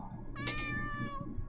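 A cat meows in a video game, one clear drawn-out meow with rising and falling pitch, close and alone with no talk over it.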